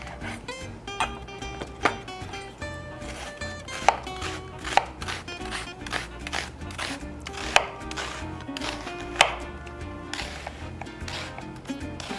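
Red onion being finely chopped with a knife on a board: a rapid, fairly regular series of close, crisp thuds and clicks, with no one speaking.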